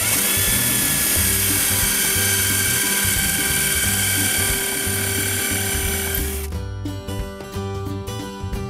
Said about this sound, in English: and drill each hole accordingly.